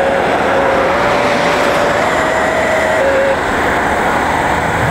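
Cars move along a road in a steady, loud wash of broad traffic and tire roar with a faint thin tone riding on top, with no clear individual pass-bys.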